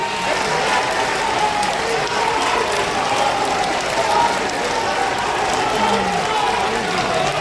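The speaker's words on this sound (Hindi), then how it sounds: "2 मिनट तक ताली बजा के मुख्यमंत्री जी का स्वागत और अभिनंदन" Crowd at a public event in Munger applauding to welcome Bihar Chief Minister Nitish Kumar, a sustained, even roar of many hands clapping throughout, with faint voices underneath.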